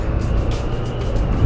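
A Honda CB1100 motorcycle on the move, its engine giving a loud, steady low rumble mixed with wind rush, close and continuous with no break and no talk.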